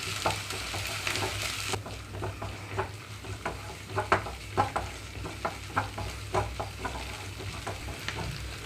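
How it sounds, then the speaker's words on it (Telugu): Onions fry in a pan with ginger garlic paste for a capsicum mushroom curry, a steady sizzle under repeated sharp scraping stirs of a spoon, fairly close and even. "ఇక్కడ ఉల్లిపాయలు వేగేటప్పుడే అల్లం వెల్లుల్లి పేస్ట్ కూడా వేస్తున్నానండి"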